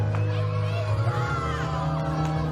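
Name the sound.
wrestling crowd cheering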